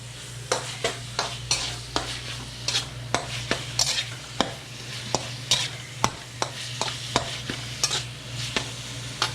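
Brined sweet radish with palm sugar being sautéed for a Thai tapioca pork ball dessert: a steady low sizzle under repeated sharp scrapes and clacks of a utensil stirring in the pan, close and rhythmic, no talking.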